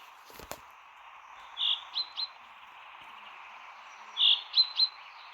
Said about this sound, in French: il va pas fermer sa gueule,